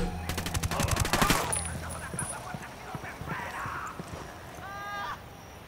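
Gunfire in a video game, a rapid automatic burst at the start followed by scattered shots and electronic game effects, fairly loud and close with no voices.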